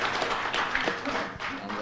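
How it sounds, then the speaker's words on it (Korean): Audience applause at a Korean political event, a continuous patter of many hands clapping at moderate loudness, with speech mixed in underneath. "여러분 큰 박수 부탁드립니다."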